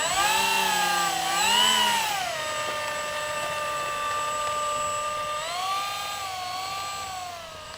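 Twin electric motors of an Avios Kingtwin 1700 radio-controlled plane whine steadily as it taxis along a runway, the pitch dipping and rising with throttle changes, close by and without any talk.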